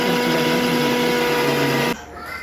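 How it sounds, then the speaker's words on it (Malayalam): A kitchen mixer grinder blends coconut, jaggery syrup and amrutham powder with a loud, steady motor whine for about two seconds, then cuts off abruptly into near quiet. "എന്നിട്ട് മിക്സി ഒന്ന് അടിച്ചെടുക്കുക."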